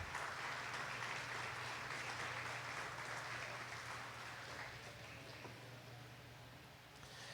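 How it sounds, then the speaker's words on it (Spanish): A church congregation at a spiritual revival service claps for Jesus, a soft, steady wash of distant applause with a low background hum, fading slightly toward the end. "Dele ese aplauso a Jesús."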